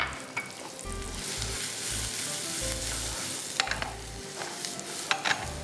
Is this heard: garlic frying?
yes